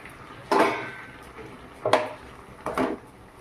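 A metal pot lid is lifted off a pot of boiled gab fruit, giving three separate clattering knocks and scrapes, close up against a faint background.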